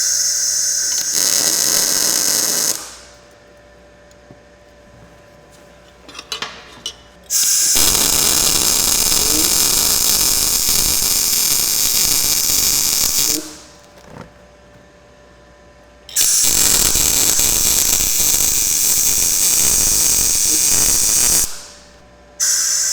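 A budget MIG welder lays a heavy tack weld in bursts, a loud steady buzzing crackle that runs a few seconds, cuts out, then returns in longer stretches with quiet gaps between.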